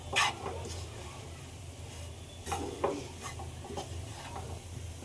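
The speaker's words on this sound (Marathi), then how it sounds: "खालीवर परतून घेऊया आपण हे।" Bhakri upma being stirred and turned over in a pan, with scraping spoon strokes and clinks at irregular intervals over a low, steady background of gentle sizzling.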